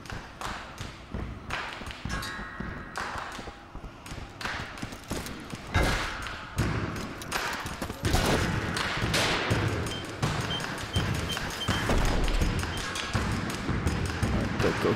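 Rapid gunfire from the video game Ape Out, with dense repeated bursts and thuds under a driving drum-heavy soundtrack, loud and continuous throughout.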